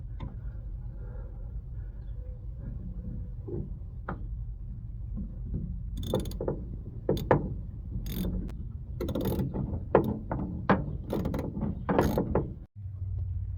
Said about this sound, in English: Now to tighten these hose clamps, we're going to be using an 8mm socket.